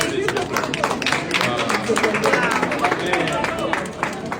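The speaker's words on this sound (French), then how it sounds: "Il faut applaudir" An audience applauds a Congolese inventor who turns plants into electricity, a fairly loud, dense stretch of many hands clapping with crowd murmur and voices mixed in throughout.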